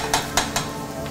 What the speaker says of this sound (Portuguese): A cebola está quase refogada